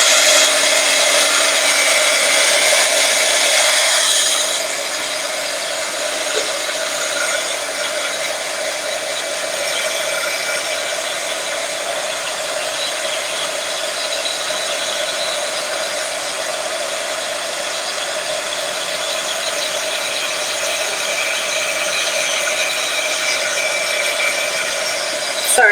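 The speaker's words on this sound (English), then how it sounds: "I'm going to hit those with some, with a heat gun so I get them all dry." A loud, steady whirring hum of a heat gun drying paint runs throughout, with a high airy blowing noise that eases slightly after the first few seconds.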